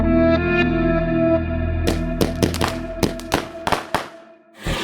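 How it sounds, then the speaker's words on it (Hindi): Firecrackers bursting nearby, a rapid irregular string of sharp loud cracks over a sustained droning tone, fading near the end. "पता नहीं कौन पटाखे फोड़ रहा है।"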